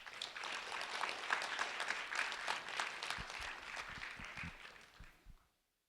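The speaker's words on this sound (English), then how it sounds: "Onix Sosa, a round of applause for Onix Sosa" Steady applause from an audience at a public recognition ceremony for a Fort Myers high school senior, dense clapping throughout that fades out near the end.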